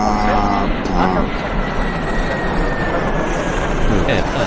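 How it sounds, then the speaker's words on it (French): Airliner engine noise, most likely from a plane departing on an airport runway, forms a steady, loud broadband roar that fills the whole stretch, with voices talking faintly underneath. "Ah d'accord, parce que l'autre avion vient de partir."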